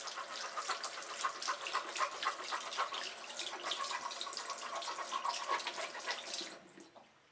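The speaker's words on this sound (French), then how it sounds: "Je vais rajouter un peu d'eau. Je vais venir rincer." Tap water running over a makeup brush being rinsed, apparently in a brush-cleaning glove, a continuous close splashing stream that cuts off near the end, leaving a few drips.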